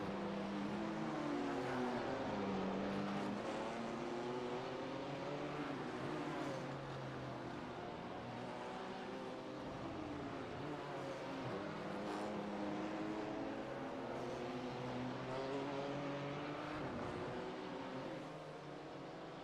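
BMW M4 GT3 race cars at Sebring in a sim racing game, engines droning and shifting through rising and falling revs as several cars pass close together, steady and moderately loud throughout.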